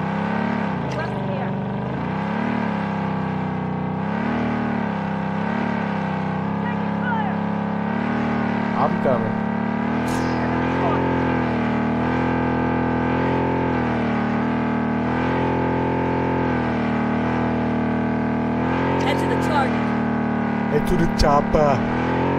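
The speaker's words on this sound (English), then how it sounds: "Why is this car so loud?" A car engine in the shooter game Project Bloodstrike drones loudly and steadily throughout, its pitch rising and falling with the throttle, while players talk over it.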